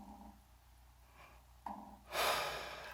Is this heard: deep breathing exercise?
yes